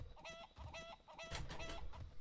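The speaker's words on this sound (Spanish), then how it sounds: "¡Oh, pollito!" A chicken in the MMO game AION clucks several times in quick, rhythmic bursts, close and clear with no talking over it.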